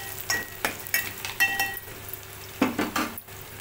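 Chopped okra pieces tipped into a pan of fried onions, a scatter of clinks and scrapes of a spoon against metal over a faint sizzle, with sharp knocks at irregular intervals.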